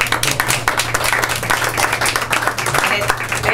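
Applause at a school board meeting in Fort Thomas, a room of people clapping steadily throughout, fairly loud and close, with voices speaking over it.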